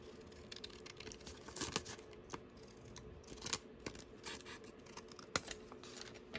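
Scissors snipping paper while trimming pages for a handmade tall pocket book, heard as a quiet run of irregular cuts and rustles, with a few sharper snips standing out.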